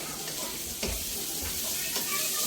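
Sliced ampalaya (bitter gourd) frying in a pan with a little salt while being stirred, a soft sizzle under a few scraping strokes of the spatula, fairly quiet and close.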